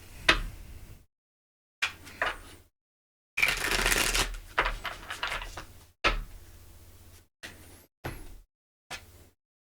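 Tarot cards shuffled by hand in close, crisp bursts of riffling and sliding, about seven separate shuffles broken by short silences.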